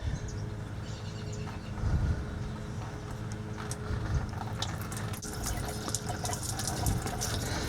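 Liquid drains and splashes steadily from a truck radiator being removed on a 318 Mopar drag truck, with knocking and clunking of parts over the continuous trickle.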